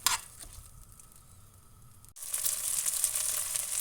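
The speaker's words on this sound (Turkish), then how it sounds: "Şimdi yıkamış olduğum bir buçuk su bardağı pirincini de ilave ediyorum. Bunu iyice 3-4 dakika kavuracağım." Washed rice sizzling and crackling as it toasts in melted butter in a pot for a vegetable pilaf, a quiet low sizzle that jumps to a louder, denser frying hiss partway through.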